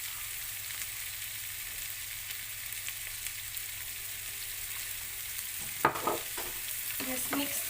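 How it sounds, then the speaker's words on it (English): Pancit bihon rice noodles with oyster sauce are stirred in a pan over a steady low frying hiss, with a few close scraping and tossing clatters near the end, no talk. "Just mix together."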